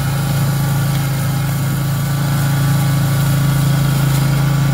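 A snow blower engine running steadily in a snowy yard, a loud, close, continuous drone with a strong low hum and even vibration throughout, without speech.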